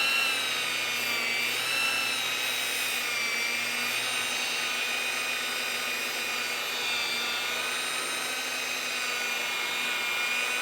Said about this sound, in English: And tilt the polisher where it's needed.